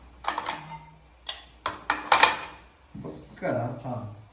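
Ice cubes drop one at a time into a glass for a homemade mocktail, giving several separate, close, bright clinks with pauses between them. A person talks over the last part.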